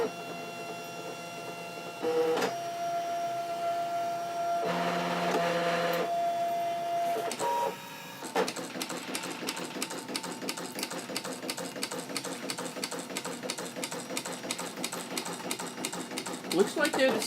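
A Brother ScanNCut cutting machine cuts a pattern, starting with whirring motor runs and tonal whines, then settling into a long, rapid, steady mechanical ticking and buzzing as the blade carriage moves, close and continuous with no talk.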